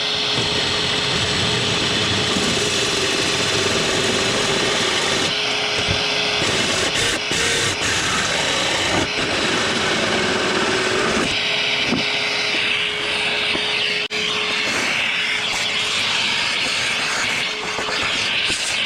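Loud, sustained whine of a power drill boring through a Sea-Doo hull, grinding throughout with the roar of a shop vac behind it.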